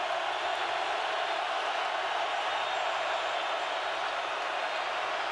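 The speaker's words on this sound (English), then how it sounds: "Crowd is roaring." Roaring football stadium crowd at a Seahawks vs Cowboys wildcard playoff game, a steady, loud wash of crowd noise without breaks, with no distinct voices standing out.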